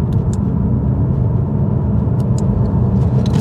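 A car engine idling around 2000 RPM with its exhaust valves fully open, a steady loud low rumble with small ticks, no talk.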